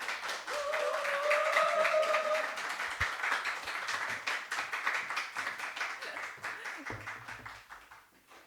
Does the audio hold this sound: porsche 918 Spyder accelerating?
no